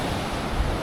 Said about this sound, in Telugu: ముందర అరేబియన్ మహాసముద్రం